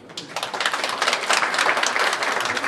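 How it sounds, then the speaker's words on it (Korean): Applause at a church service for a young performer's open musical collaboration: dense, steady clapping from a gathered crowd that swells quickly and holds at a moderate level throughout, with no talk over it. "열린 협연을 해준 윤호찬 군에게도 박수."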